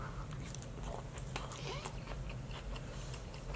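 Sushi being eaten and chewed close to the mic, soft steady wet mastication with faint crunchy bites, continuous and low against a hissy background.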